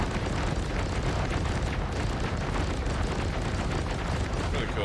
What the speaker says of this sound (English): With cannons, this is staggered fire for the pilot.